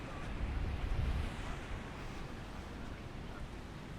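Surf rolling onto the main beach at Akumal, Mexico, a broad continuous wash of waves with wind buffeting the microphone, swelling briefly then settling into a steady roar.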